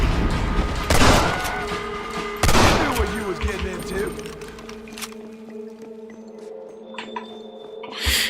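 A Gatling gun fires in Red Dead Redemption: two loud bursts of rapid gunfire early on, then a lingering rumble with scattered clinks and background game ambience, with a final sharp crack at the end.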